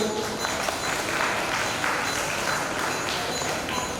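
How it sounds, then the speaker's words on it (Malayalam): A camp audience breaks into sustained applause, a dense, even wash of many hands clapping at steady strength throughout, fairly close and with no break. "ഒരു കയ്യടി കൊടുക്കും"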